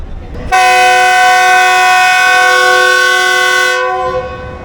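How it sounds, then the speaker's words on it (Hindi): A loud, sustained departure horn from a Lahore railcar blasts for about three seconds, a rich multi-tone chord that cuts off and leaves a faint echo. "डिपार्चर विसल हुआ है जी"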